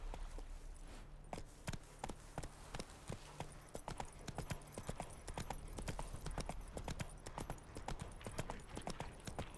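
Horse hooves clip-clopping at a steady gait across the ground in The Witcher 3 video game, a continuous rhythmic run of close, crisp hoofbeats with no talk.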